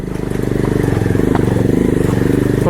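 A Bajaj Pulsar motorcycle engine with a loose exhaust and silencer runs close by with a rapid, rattling putter, steady and loud throughout, off-road at Varattumedu, Vagamon.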